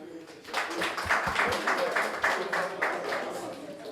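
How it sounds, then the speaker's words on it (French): Quiz show studio audience applauding, a dense patter of many hands at moderate level, steady throughout with a few louder claps near the start. "Applaudissez pour vous-même"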